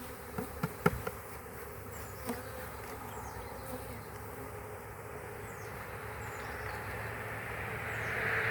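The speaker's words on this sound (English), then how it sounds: "God, that's a ton of bees." A large swarm of honey bees settling into a newly started hive gives a steady, dense buzzing drone from close by, with a few sharp knocks near the start and the hum swelling slightly toward the end.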